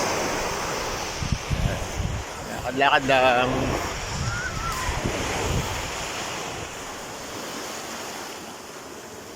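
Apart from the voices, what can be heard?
sea waves on a beach at Casa Dingin, Alitagtag, Batangas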